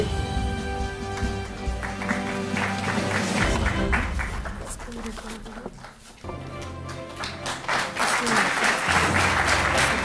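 Applause from an audience at a Delhi sports felicitation ceremony, where the Chief Minister honours athletes on stage; steady loud clapping runs throughout with music underneath and a brief dip near the middle.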